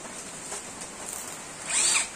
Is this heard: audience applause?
no